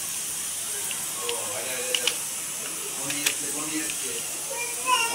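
Bread pakora frying in hot oil, a steady broad hiss with a few faint crackles and pops throughout, while a voice speaks quietly over it.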